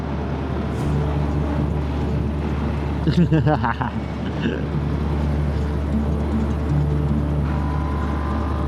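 A steady low barge engine drone rumbles throughout, close and constant, with a brief burst of louder noise in the middle and faint voices underneath.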